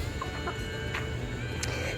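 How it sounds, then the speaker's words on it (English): Chickens clucking softly in a city homestead barn, a few short scattered clucks over a steady low background hum, fairly faint and close by. "More chickens."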